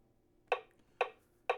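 Three sharp metronome clicks for banjo timing practice, evenly spaced about half a second apart, crisp and close against near silence.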